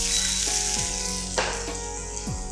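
Finely chopped French beans and carrot sizzle steadily in a hot pan for burnt garlic fried rice, a close, continuous frying hiss with a few soft stirring scrapes.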